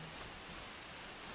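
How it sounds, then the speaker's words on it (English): Steady rain pouring down in the survival game Enshrouded, heard deep underground in a mountain, a soft, even hiss of falling water holding at a constant faint level throughout. "I can hear the rain pouring down in here"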